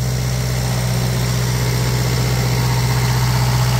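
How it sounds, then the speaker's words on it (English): An Onan 12.0 DJC generator engine runs under an electric heater load, a loud, steady, close drone with a constant low hum and no change in pitch. "Listen to the motor."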